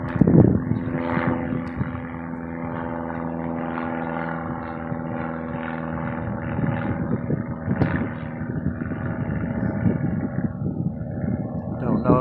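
A light Aeronca Champ airplane drones overhead, its propeller engine a steady mid-loud hum that swells and fades, while a person talks over it near an airport.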